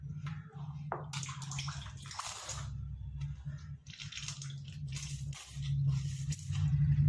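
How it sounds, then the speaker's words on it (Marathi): Cooking oil pours from a bottle into a kadhai, a soft splashing, trickling stream in uneven bursts over a low background hum, fairly close and moderately quiet. "तर आपण हे तेल कढईमध्ये आपण ओतणार आहे"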